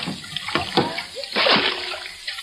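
In an old radio drama, water sloshes and splashes in short bursts as a bucket bails out a leaking boat, up close and fairly loud.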